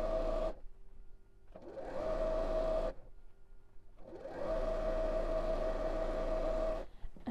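A sewing machine stitches fabric strips together in three bursts of rapid, even whirring, each several seconds long and separated by short quiet pauses, loud and close.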